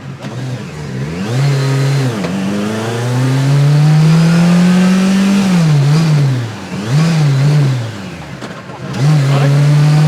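A street-legal turbocharged and supercharged Group B Lancia Delta S4 revs hard and close, its engine note rising and dropping through repeated sweeps and gear changes, with voices talking over it.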